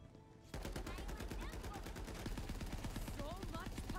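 Rapid automatic gunfire from a weapon in Borderlands 3, a dense, loud, steady burst of shots running for about three and a half seconds after a short quiet lead-in.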